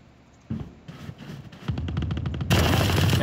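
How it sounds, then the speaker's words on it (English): Rapid gunfire rattles in the video game Fortnite, starting with a few scattered shots and building into dense, loud bursts of automatic fire toward the end. "they're shooting like crazy right now"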